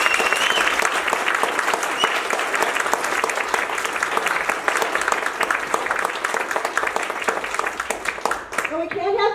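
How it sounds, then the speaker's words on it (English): Sustained, dense clapping from an audience at an awards ceremony fills the room loudly and evenly, honoring two retiring board members, with voices mixed in and a brief speaking voice near the end. "Let's give Dan and Barb another round of applause."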